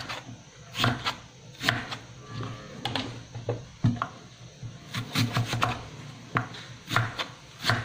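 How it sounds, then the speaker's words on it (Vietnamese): Potatoes are sliced with a serrated crinkle cutter on a board: irregular, close knife thuds and scrapes about once a second, with light handling noise between strokes. "Khoai tây thì mình sẽ dùng cái chấn hình răng cưa để mình cắt cho nó đẹp nha."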